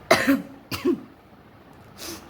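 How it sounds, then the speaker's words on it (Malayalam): Two short coughs close by in quick succession, followed after a pause by a softer third cough. "പനിയൊക്കെ മാറിയിട്ടുണ്ട് പക്ഷേ ഈ ചുമ മാറിയിട്ടില്ല"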